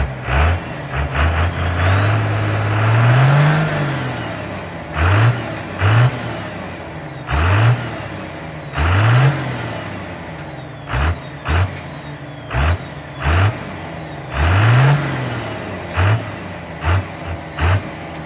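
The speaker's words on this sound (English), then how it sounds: "Give her some revs." A 1986 K3500 truck swapped with a 12V Cummins diesel revs repeatedly, a long climbing rev followed by a series of short sharp blips with idle between, loud and close, no talking.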